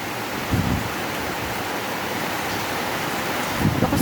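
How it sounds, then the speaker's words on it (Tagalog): Strong wind rising suddenly after very hot weather, roaring steadily, with low rumbling gusts buffeting the microphone near the start and end. "Lakas ng hangin bigla eh,"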